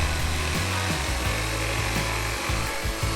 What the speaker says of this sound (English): I'm going to use that to trace it onto the board itself before I start cutting it out with the jigsaw